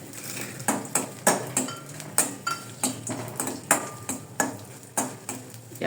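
A spoon scrapes and clinks against a pan as panjiri is stirred over very low heat, with a steady rhythm of sharp metallic strokes close by and no talk.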